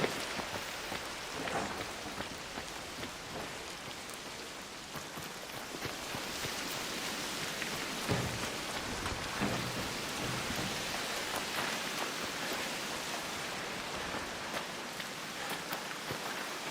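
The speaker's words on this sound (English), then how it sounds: "That's cool sound effects, actually, because it actually sounds like rain on metal" Dense, steady downpour drumming on metal surfaces in the Arc Raiders video game, a continuous wash of hissing rain with occasional heavier bursts, no voices.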